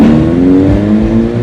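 A red car's engine rumbles loud and close with a steady, slightly rising hum, then stops sharply at the end.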